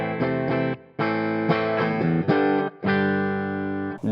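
An electric guitar plays through a Joyo Preamp House pedal on its EVH 5153-style clean channel, a few loud chords strummed and left ringing, cut off between phrases, with no voices.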